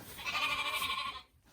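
A single drawn-out bleat from a lamb or sheep, close and fairly loud, holding a quavering tone for about a second before cutting off into quiet.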